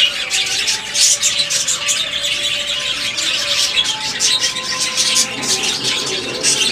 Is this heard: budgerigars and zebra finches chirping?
yes